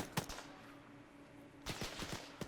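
Gunfire in a military video game set in an alternate-history Second Korean War: a couple of sharp shots early, a lull of low ambience, then a renewed cluster of several cracks, somewhat distant.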